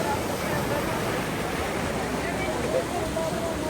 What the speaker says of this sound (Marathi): बर्फ वितळून त्याच्या तात्पुरत्या तयार झालेल्या या नद्या आहेत